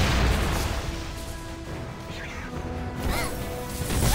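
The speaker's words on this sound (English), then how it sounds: "That was an impressive blast." An explosives cache blowing up in Blade & Soul, a loud booming blast with crashing debris at the start, fading into a rumbling tail with faint tonal game sounds.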